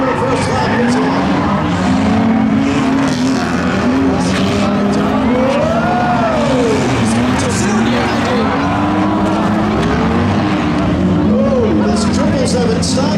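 Several race cars roar around a ramp figure-8 track at a Memorial Day thrill show in Seekonk, a dense, continuous engine din with rising and falling revs and tire noise, under steady commentary from an announcer.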